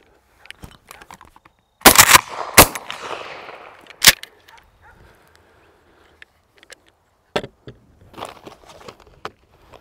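Shotgun blasts from a Mossberg 500 in .410 fired at hand-thrown clay targets outdoors: two sharp loud reports in quick succession, then a third a moment later, each trailing off into echo, with quieter handling clicks and rustles afterward.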